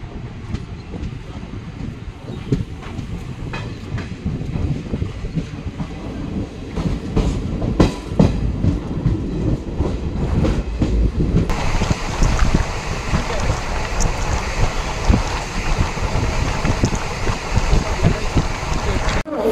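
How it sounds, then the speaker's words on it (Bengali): The Uttarbanga Express pulls out of Aluabari Junction, heard from on board as a continuous loud rumble and rhythmic wheel clatter that grows heavier and louder partway through. "তো আমাদের ট্রেন এখন আলুয়াবাড়ি জংশন ছেড়ে দিল।"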